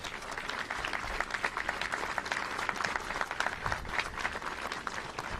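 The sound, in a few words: audience applause for Governor Pritzker and Senator Harmon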